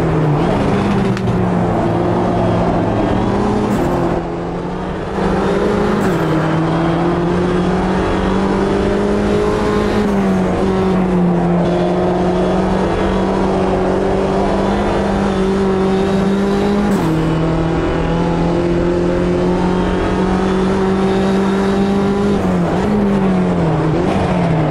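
A simulated 2023 Mini Challenge JCW race car in Automobilista 2 at Snetterton 300 drones loudly and continuously, its engine note rising and falling through gear shifts over the full lap segment, with no other sounds standing out.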